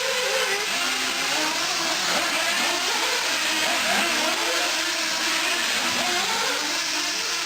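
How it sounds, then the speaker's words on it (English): Several 1/8 scale nitro RC buggies race on a track, their small high-revving engines making a continuous dense buzzing whine that rises and falls as the pack battles for position, with no talk. "A whole bunch of green buggies battling hard for that 2 bump up spot."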